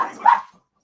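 A single short bark or yip from a dog in a home living room, sharp and fairly close, fading quickly into silence.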